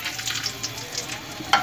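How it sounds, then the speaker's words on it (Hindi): Whole spices sizzle steadily in hot oil: black cardamom, cloves, star anise, dried red chillies and cinnamon pieces. A close, even frying hiss ends in a sharp clink at the end. "सबसे पहले हम ये भून लेंगे।"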